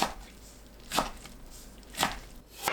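A knife chops through seaweed stems on a cutting board, cutting them into 4 cm lengths, four separate cuts spaced about a second apart, close and fairly quiet.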